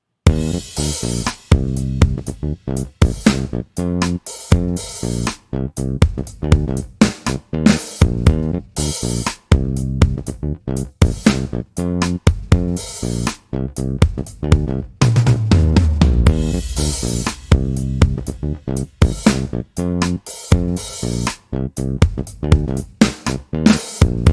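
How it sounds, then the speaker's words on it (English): Loud, dense music with punchy rhythmic hits and a slightly gritty, saturated tone throughout from an EQ SITRAL-295 plugin's alternate mode harmonic distortion, playing continuously without voices. "the alternate mode brings a bit more harmonic distortion"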